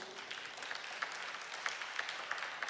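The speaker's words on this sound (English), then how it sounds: "yeah, you can clap for that" Church congregation applauding, a soft, steady patter of many hands clapping at a distance, fairly faint and continuous without voices.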